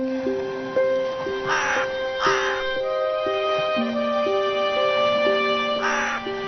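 Crow in a Kazakh cartoon cawing in three short harsh bursts over a background of music.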